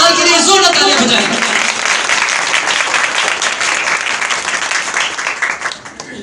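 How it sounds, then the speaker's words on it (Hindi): Loud applause from a church congregation during a Pentecostal service, dense sustained clapping filling the room for several seconds and gradually thinning toward the end. "खुदा के जलाल के लिए जोरदार तालियां बजाएं।"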